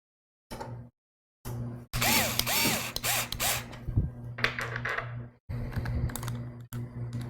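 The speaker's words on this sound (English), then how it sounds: "this screwdriver has a clutch on it, and the clutch is set to 3 right up here" An electric screwdriver with its clutch set to 3 drives screws into a graphics card bracket in a budget gaming PC, making several short whirring bursts with brief pauses and clicks, close and clear.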